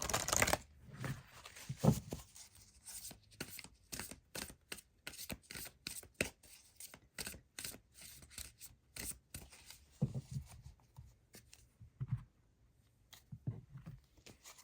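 A tarot deck being shuffled and a card drawn, heard as quiet, close riffling and rapid flicking card sounds that come in bursts and pauses, with no voices.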